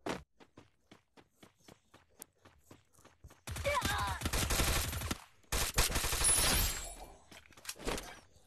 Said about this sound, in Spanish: Se escuchan los disparos, pero no los veo